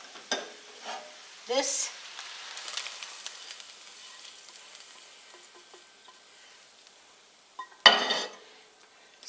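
Onions tipped into a hot pan for a Tex-Mex corn casserole sizzle steadily while a utensil stirs and scrapes. A loud clatter comes near the end, and a voice speaks briefly.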